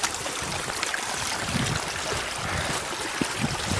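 Water runs down a deep eroded trench on a Torridon hillside, a steady close trickle and gurgle with small splashes, continuous and alone.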